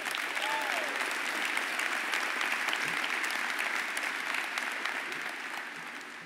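A large audience at a ceremony honoring the Navy's first female four-star admiral breaks into sustained, dense applause, steady and fairly close throughout, with a few faint voices mixed in before it eases slightly toward the end.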